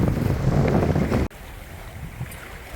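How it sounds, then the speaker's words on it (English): Strong wind buffets the microphone aboard a sailing yacht under way at sea, a loud rushing roar that cuts off abruptly partway through, leaving a quieter background of water and breeze. "Probably getting a bit of wind now, so you can see it's very windy."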